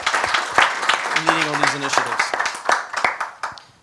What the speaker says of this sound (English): maybe a round of applause to the ministry